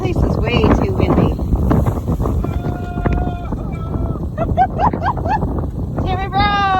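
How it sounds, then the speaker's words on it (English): Strong wind gusting near a frozen lake in the mountains, a steady loud roar buffeting the microphone throughout while a person talks over it. "Holy cow, is it windy through here."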